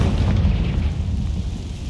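A Confringo blasting spell goes off in Hogwarts Legacy, a loud, rumbling explosion with a heavy low boom that holds steady across two seconds, dense and close, with no voices.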